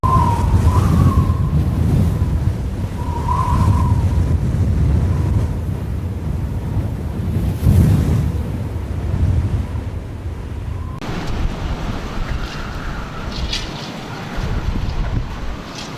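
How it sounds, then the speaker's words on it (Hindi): Very strong wind buffets the microphone in a steady, loud roar with heavy low rumbling gusts, surging and easing over several seconds, with no voices. "हवा इतनी तेज़ है कि लोग चल भी नहीं पा रहे"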